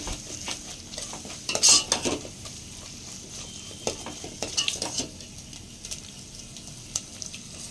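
Cumin powder and other spices sizzle and fry in oil while a spoon scrapes and clinks against the pan in irregular stirring strokes, close and fairly quiet.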